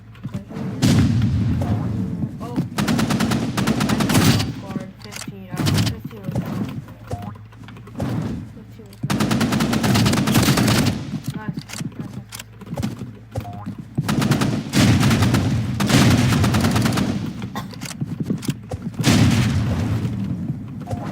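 Loud gunfire in a first-person shooter video game, repeated bursts of rapid shots in several clusters with brief pauses between them, close and dominant, with no talking.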